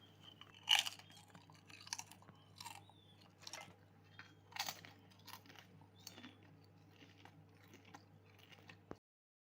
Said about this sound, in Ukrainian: Ви тільки послухайте, як вони хрумтять у роті.